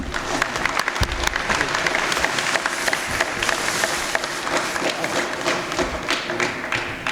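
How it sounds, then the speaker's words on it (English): Sustained applause from an audience at a county board of supervisors meeting in a high school, steady dense clapping with a few louder thumps and taps, lasting throughout. "if we can give them another round of applause"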